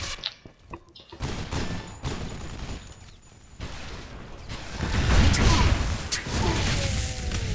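Enemy gunfire in the shooter game Loadout: dense, rapid bursts of shots and impacts crackle continuously over a rumbling, crashing battle din, loud and close throughout.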